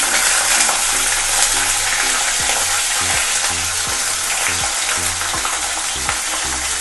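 Beans, potato and carrot sizzle and fry in a hot pan with a steady, loud hiss, while a spoon stirs and scrapes in occasional soft knocks; no one speaks.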